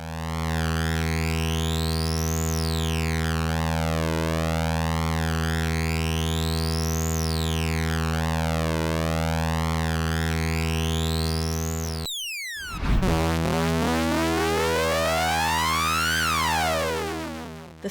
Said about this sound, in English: Now we are hearing a bipolar pulse.